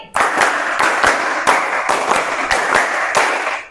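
A group of high school students claps together in unison, a quick string of sharp, loud claps in a steady rhythm, close up.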